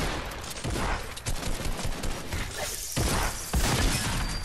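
Automatic sniper rifle fire in the Fortnite video game, a steady stream of dense, crackling shots with sharper bursts near the end, moderately loud and continuous with no talk.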